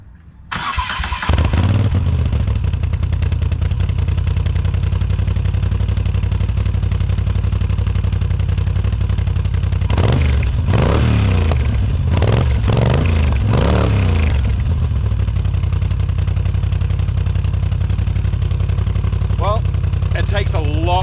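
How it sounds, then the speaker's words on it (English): A big custom motorcycle exhaust fitted with dB killer baffles runs at a loud, steady idle with a deep low rumble, briefly blipped around the middle, while a person talks over it. "Takes a lot of the bark out of the exhaust."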